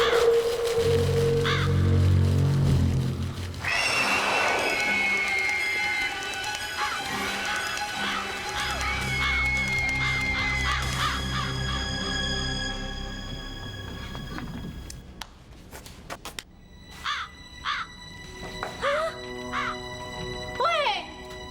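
Crows cawing among a busy mix of clip-clopping hooves, music and animated effects, with harsh calls scattered across the scene and more spaced caws near the end, under occasional voices.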